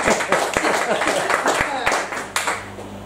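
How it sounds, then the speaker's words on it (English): Scattered, uneven hand claps from a comedy show audience, sharp individual slaps rising and falling in density, with a voice talking over them. "Round of applause for Ted."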